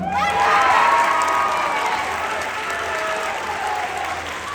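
Audience applause at a band awards night after a name is called, a loud crowd clapping with some cheers and children's shouts, sustained and slowly easing.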